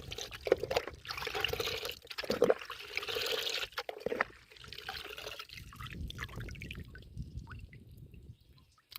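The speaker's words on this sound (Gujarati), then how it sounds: "અને હવે દવા નાખી દેવી" Liquid pesticide pours into a farm sprayer pump tank already holding water for a wheat crop, a close, gurgling stream with brief breaks and splashy trickles throughout.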